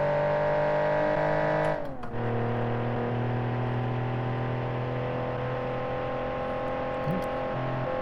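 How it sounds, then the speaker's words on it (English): In the BeamNG.drive game, a car engine revs up through the gears with a sustained, whining tone, pitching up and dropping at each gear shift, fairly faint. "I like how this engine sounds going up through the gears"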